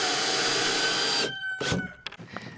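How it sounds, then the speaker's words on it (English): A power drill whines steadily at close range while driving a screw into a wooden bat house, then stops; brief knocks and handling noises follow. "Now I'll start by screwing up here"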